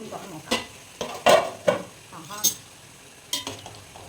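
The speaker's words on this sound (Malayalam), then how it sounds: "അപ്പോൾ നമുക്കൊന്ന് തുറന്ന് നോക്കാം. ഒന്ന് ഇളക്കി കൊടുക്കാം." Beef curry being stirred in a cooking pot, Kerala style, with a spoon scraping and clinking in a series of irregular short strokes over a faint sizzle, close and moderately loud.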